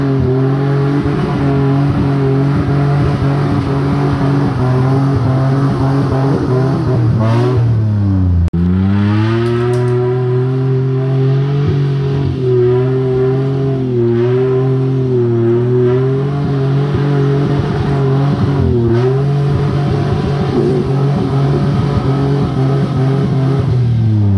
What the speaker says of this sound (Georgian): მომზადებული მანქანაა.